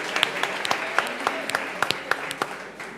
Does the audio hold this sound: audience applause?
yes